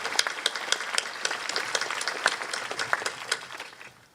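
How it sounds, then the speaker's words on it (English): A high school graduation crowd claps for student government officers, a full, lively round of applause with sharp individual claps standing out, tapering off at the end. "Let's applaud their efforts too."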